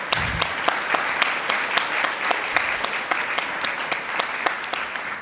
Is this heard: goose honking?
no